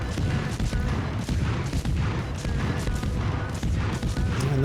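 Rapid-firing deck guns of the destroyer USS Forrest Sherman in World of Warships, sounding as a dense, continuous barrage of booming shots with no pauses.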